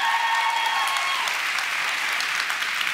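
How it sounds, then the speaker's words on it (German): An audience at a live show claps loudly and steadily throughout, a dense, continuous round of applause with no break. "Können wir einen großen Applaus für Robin haben?"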